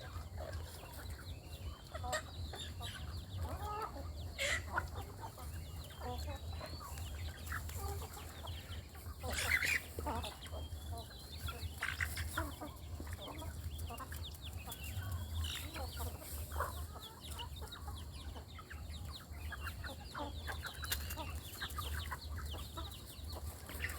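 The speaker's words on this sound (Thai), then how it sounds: "นี่คือไก่บ้านแท้ๆไก่บ้านล้วนๆนะครับ" Native Thai backyard chickens cluck and call in scattered bursts around a rural yard, fairly faint over a steady low hum and outdoor background.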